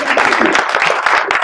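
Brief, busy clapping comes from an audience at a panel of an African investment leaders summit, a short steady burst of applause.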